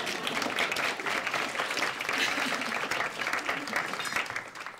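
An audience at a talk applauds steadily, a dense even clapping that goes on for several seconds and fades slightly at the end.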